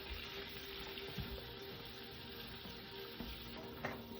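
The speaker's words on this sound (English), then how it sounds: "So I got my tofu, snap peas, and I got my spinach. And then just mix it all around." Tofu, snap peas and spinach are stirred in a frying pan, producing a quiet, steady sizzle with soft scraping and a few light knocks.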